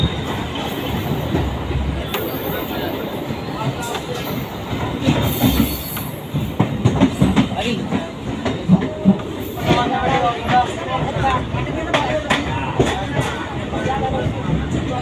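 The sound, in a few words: MEMU special train departing and running on rails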